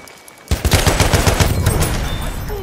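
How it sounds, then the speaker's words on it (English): Close, loud machine-gun fire in Battlefield 1 at Argonne Forest, a sudden rapid burst of rattling shots that keeps going for a couple of seconds. "Machine gun right there."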